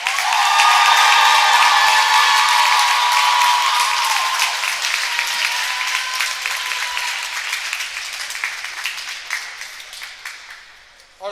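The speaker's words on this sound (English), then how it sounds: "One more round of applause for Sarah Holland." A gym crowd applauds a senior player on women's college basketball senior night, loud sustained clapping with some cheering that swells early and then slowly tapers off near the end.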